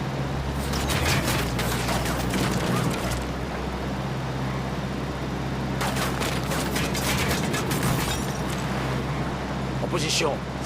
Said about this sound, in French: Je vais tirer.